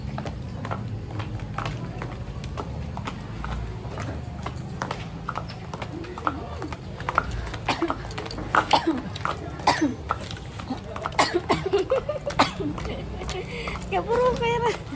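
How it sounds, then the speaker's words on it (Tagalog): A person coughs repeatedly in short bursts and clears their throat, close by over a steady low background hum, with talking mixed in. "Isang linggo na talaga itong ubo ko."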